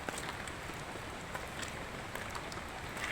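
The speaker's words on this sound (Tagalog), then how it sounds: "Nasinamantala namin na hindi masyadong malakas yung ulan." Light rain falling in a dark forest at night, a steady soft hiss of drops on leaves and ground with a few brighter patters, continuous and even throughout, no voices.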